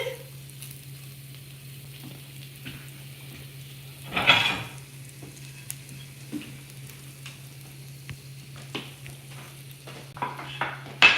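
Corn tortillas cook on a hot comal, with a faint steady hiss, a brief louder sizzle and scattered light clicks and taps of handling, quiet and close, with no talk.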